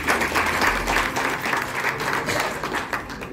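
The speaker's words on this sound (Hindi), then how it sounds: "तो ताली बजाइए इनके लिए" Dense applause fills a hall at a Kolkata club installation ceremony as an award is honoured, many hands clapping together at a steady, loud level for the whole stretch.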